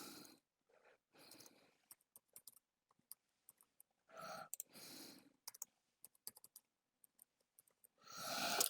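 A password being typed on a computer keyboard, quiet scattered key clicks in short bursts with pauses between, faint and close, with a few soft breathy noises.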